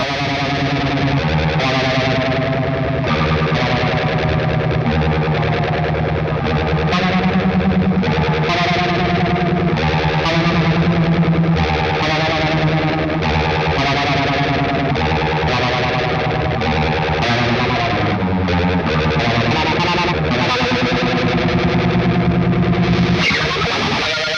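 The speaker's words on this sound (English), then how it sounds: "you turn up the speed of your phaser all the way" Distorted electric guitar strums chords through a rapidly swirling, pulsing phaser sweep, loud and continuous with no voices.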